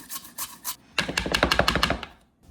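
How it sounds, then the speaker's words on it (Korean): A raw potato is julienned on a fine grater: three separate scraping strokes, a short pause, then a quick run of about a dozen rhythmic, close-up rasping passes that fade out, with no talking. "저는 일단 한 개 정도만 채를 썰고 나머지는 다 갈아줄 겁니다"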